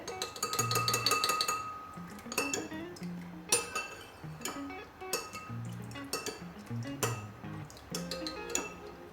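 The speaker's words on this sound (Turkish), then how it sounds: "Ben bu sosumu iyice karıştırıyorum şimdi." A vinegar salad dressing stirred in a bowl with a spoon, giving steady rhythmic clinking and scraping against the sides, close and moderately quiet, continuing throughout.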